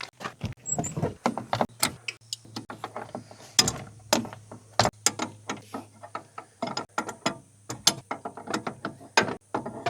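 A hand ratchet clicks in quick bursts of short strokes while an engine sensor is loosened, close and crisp, with brief pauses between runs.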